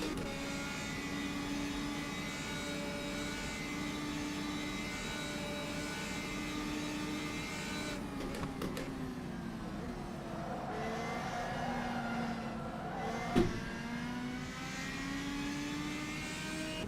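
A race car engine in the rFactor 2 sim racing game holds a steady, sustained drone with shifting pitch as the throttle comes off and back on, with one brief sharp knock near the end and no talk.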